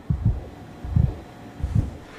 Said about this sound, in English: We got the old heartbeat noise